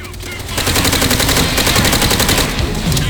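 Machine gun fire from bunker emplacements in the World War II shooter game Call of Duty: World at War, loud and continuous rapid bursts of gunfire forming a dense battle din throughout.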